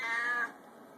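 A cat gives a single short, clear meow close by, lasting under half a second before fading into quiet.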